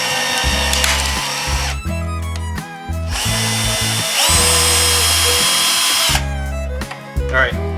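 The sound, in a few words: Bosch Flexiclick driver driving screw into wood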